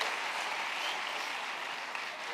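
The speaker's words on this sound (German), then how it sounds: "Alle Männer klatschen." Crowd of men clapping together in a steady, dense burst of applause, fairly faint and continuous without talk.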